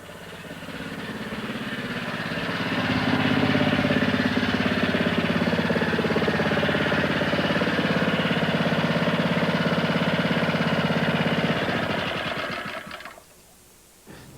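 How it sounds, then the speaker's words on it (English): A car engine treated with QMI PTFE oil treatment runs steadily and loudly for about twelve seconds with a busy mechanical whir, then cuts off abruptly into near silence. "This engine is run for almost an hour"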